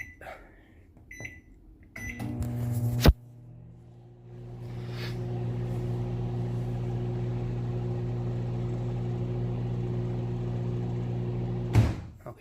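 A microwave oven sits in a kitchen. A door clunks and a few beeps sound, then the oven switches on with a thud and runs with a steady, close hum before stopping with a final click and beep.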